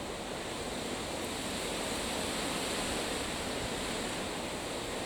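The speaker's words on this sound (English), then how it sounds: "Oh, it's been such a blustery day." Blustery wind roars steadily outdoors in a garden, a dense, continuous rush of broadband noise with gusty texture and no talking, loud and close throughout.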